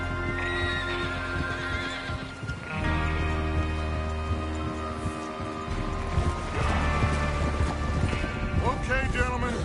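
In Red Dead Redemption 2, horses snort and whinny while their hooves clip-clop in a trotting rhythm, with rain, creaking gear and voices talking over the ride.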